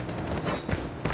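A sentry gun in Attack of the Undead fires in a brief, steady rattle of rapid shots, thick and mid-loud, lasting about a second.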